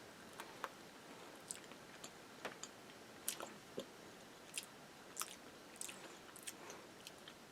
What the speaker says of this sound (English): We'll take a little nibble of the Mystery Machine chocolate piece.